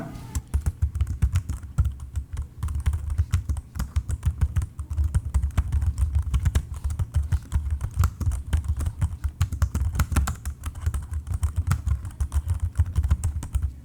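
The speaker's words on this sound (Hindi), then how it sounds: "जैसा कि आपने देखा इसका जो कीबोर्ड का नॉइस फीडबैक है वो बहुत ही ज्यादा मुझे अच्छा लगा।" Dense, continuous keystrokes from an ASUS Marshmallow KW100 keyboard during ordinary typing, recorded close up as a fast, even patter of muffled clicks with no talking.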